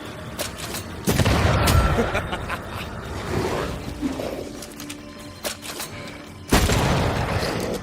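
Gunfire from a shooting corpse in the ghost-haunted game Banishers: Ghosts of New Eden, with two loud heavy blasts bracketing a stretch of scattered shots, rumble and hoof-like clatter under a busy game soundscape.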